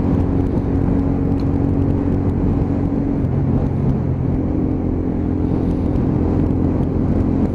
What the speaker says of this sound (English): Loud exhaust, very, very loud exhaust, as you'll find out when I start rev matching, changing down through the gearbox.